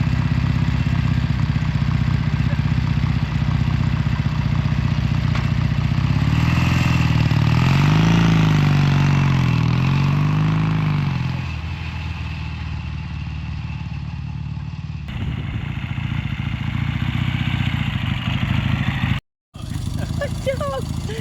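A 1977 Triumph Bonneville 750 motorcycle engine being run in runs steadily and loudly close by, revving up and down in the middle, then idling lower before cutting out abruptly near the end.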